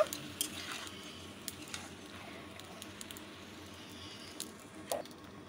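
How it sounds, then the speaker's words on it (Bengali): Pumpkin greens with prawn heads frying in a pan, a soft steady sizzle with faint stirring scrapes and a few sharp clicks, close and quiet, no talking. "এখন আমি সেই শাকটা দিয়ে দিচ্ছি। শাকটা আমি একটু ভাজা ভাজা করে নেব।"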